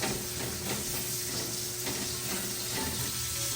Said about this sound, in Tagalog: magigisa tayo rito ng bawang